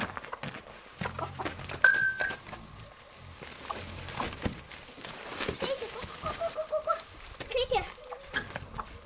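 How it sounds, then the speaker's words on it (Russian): A rooster crows amid scattered clucking and rustling in a village, with people talking intermittently nearby. "О, Петька закукуекал."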